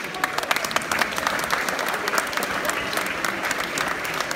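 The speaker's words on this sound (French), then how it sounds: "que je vous demande d'applaudir" An audience applauds at an arts event, with dense, even clapping sustained throughout at moderate level.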